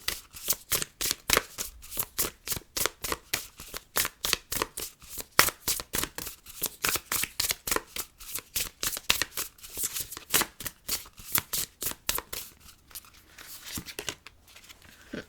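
A deck of tarot cards is shuffled repeatedly, a close, crisp riffling in rapid rhythmic bursts about twice per second, continuing steadily for the whole stretch with no talk.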